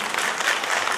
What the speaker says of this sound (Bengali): একটুখানি করতালিতে বলুন তো প্লিজ।